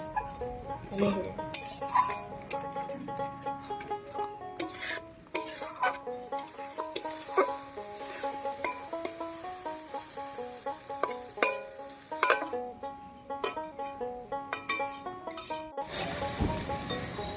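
Pointed gourd paste is stirred slowly and fried in a pan, with quiet sizzling under repeated scraping and rasping strokes of a spatula against the metal.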